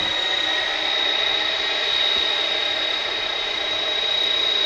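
A UPS MD-11 jet from 1992 at Dallas/Fort Worth airport makes a steady, loud engine roar with a sustained high whine, heard alone without talk.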